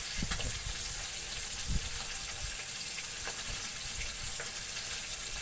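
Fish frying in a pan for a Bengali raw-banana fish curry, a steady low sizzle with soft crackles and scattered pops, fairly quiet and continuous with no talk.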